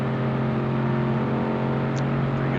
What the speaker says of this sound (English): Car's going over the bridge.